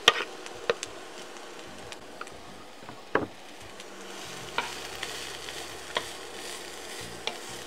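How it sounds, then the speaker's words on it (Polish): Garlic scapes fry with softened onion in a pan, a soft continuous sizzle with scattered sharp clicks and taps of a utensil, close but quiet and without speech. "Do średnio podsmażonej cebuli dodaję pędy czosnku i również je krótko podsmażam."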